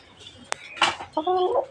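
A caged hen clucks in a few short, nearby bursts, preceded by a single sharp click.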